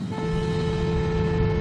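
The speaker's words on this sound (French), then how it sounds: "Je vais klaxonner." A steady car horn sounds continuously at constant pitch from inside a moving car, a sustained honk held over low engine and road rumble.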